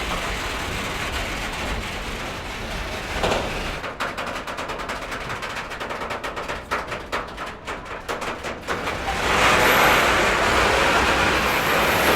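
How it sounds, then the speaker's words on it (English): A train rumbles past close by in Zagreb, Croatia, its wheels clattering rhythmically over the rail joints before a louder roar as it goes by. "Maybe there's another train coming"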